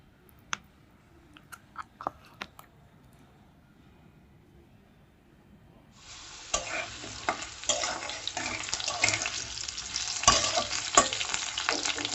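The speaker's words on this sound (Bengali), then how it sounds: "আলু ভাজা হয়ে গেছে" Potatoes frying and being stirred in a pan while cooking a Bengali okra-and-potato dish with mustard and poppy seed paste; a few soft clicks in near quiet give way to a steady, loud sizzle with scraping stirs.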